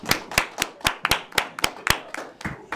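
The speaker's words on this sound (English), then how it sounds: "Applause is in order." Brisk hand clapping at the close of a Nevada Boys State session, about a dozen distinct sharp claps in an uneven rhythm, close and clear with no talking.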